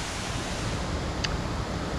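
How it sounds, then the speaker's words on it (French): A mountain waterfall in Corsica rushes with a steady, loud, unbroken roar of falling water. "Cette cascade, j'ai envie de m'y baigner."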